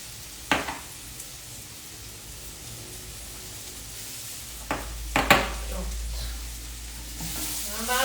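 Onion sizzling in a frying pan while a vegan feijoada and farofa are prepared: a steady, crackling fry with a few sharp clinks and scrapes of stirring against the pan.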